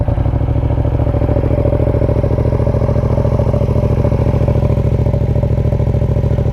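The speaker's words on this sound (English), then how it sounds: "So still got quite a nice rumble when you start it up." A Yamaha MT-07 motorcycle fitted with an SC Project Conic 2-in-1 exhaust, baffle in, idles with a steady, loud, close rhythmic rumble and no talking.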